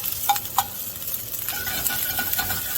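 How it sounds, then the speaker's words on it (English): Asparagus sautéing in a pan gives a quiet, continuous sizzle as the spears are pushed around, with a few light clinks and scrapes of the utensil near the start. "And then I'll start to move around our asparagus"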